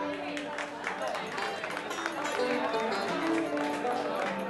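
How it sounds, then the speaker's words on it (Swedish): Audience applause for Roffe, an accordionist, at a band's 45th anniversary concert at Saltimporten: dense, steady clapping from a crowd mixed with music and voices, sustained and fairly loud throughout. "En stor applåd för Roffe!"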